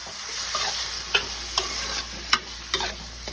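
A spoon stirs fried onions with ten tomatoes in a sizzling pan. About six rhythmic scraping strokes sound over a constant close sizzle, with no talking.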